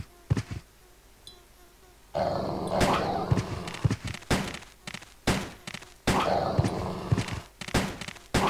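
Dogs in Resident Evil Code Veronica X, played on a PS2 emulator, growl and snarl in repeated harsh, close bursts between short quiet gaps.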